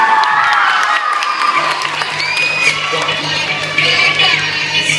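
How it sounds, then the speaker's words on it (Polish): A dance tournament audience welcomes debut dancers with loud, sustained cheering, whoops and applause that stay steady throughout, with children's shouts mixed into the crowd noise. "Duże brawa, ponieważ to są debiuty."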